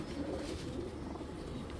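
Soft, throaty cooing of a tournament flying pigeon among other pigeons, continuous and near, blended into a thick low rumble of background noise without talk.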